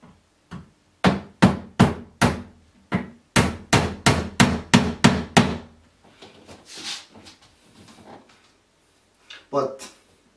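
A hammer taps the corners of flat-pack furniture in quick series of sharp, loud taps, about a dozen knocks in two bursts, followed by quieter shuffling and a voice speaking briefly.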